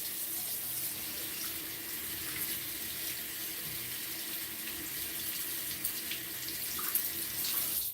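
Water runs steadily from a bathroom tap into a sink while a razor is rinsed after a shave, a constant soft hiss and splash with no talking.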